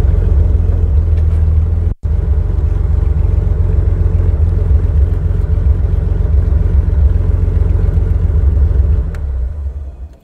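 A 1956 Mercedes 300 SL Gullwing with sidepipes rumbles steadily, its deep engine note loud and close with a brief cut early on, holding a smooth drone before tapering off at the end.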